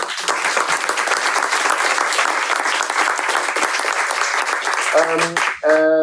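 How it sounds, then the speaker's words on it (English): Dense, steady applause from a panel audience rolls on for several seconds, then fades as a voice begins speaking at the end. "So I would like to give a round of applause to the speakers"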